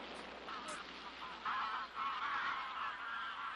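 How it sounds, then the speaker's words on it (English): Greylag geese honking in a noisy outdoor setting, a few calls rising over a steady background hiss, with overlapping honks toward the end. "On the grey-lag geese කියන සත්තු."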